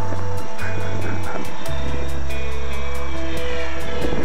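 A GWS Float Tiger Moth RC model plane's big electric motor and propeller whine up in short bursts, then hold a steady loud close drone without any talking.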